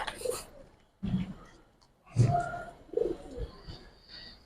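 Giribaz pigeons coo in a handful of short, separate bursts nearby, with quiet gaps between the calls and soft background noise.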